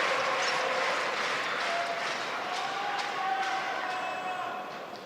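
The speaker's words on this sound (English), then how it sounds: "the crowd are going berserk here in the hall" A sold-out table tennis hall crowd roars and applauds continuously at a world championship men's singles match, a dense, loud wash of cheering that fades slightly at the end.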